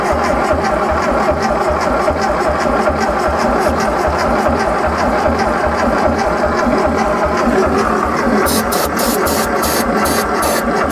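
An abandoned, long-neglected 1974 VW Thing engine runs at a rough, loud idle with a steady rapid pulsing chug close by. The engine sound continues without pause, and no one speaks.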